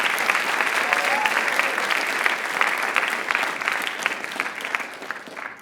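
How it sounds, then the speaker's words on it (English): An audience at a student writers expo applauds two presenters with a sustained, dense round of clapping, steady and full before gradually thinning toward the end. "Can we give both Sophia and Eleanor one more round of applause,"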